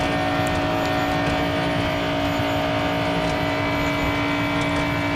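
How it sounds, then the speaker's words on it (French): A NASCAR race car engine in the mobile racing game Real Racing 3 drones at a steady high pitch, a constant loud monotone roar with no speech. "On a vite fait d'être hypnotisé par le bruit du moteur"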